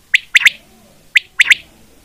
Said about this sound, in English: The cute birds, quail, cute sounds you can see.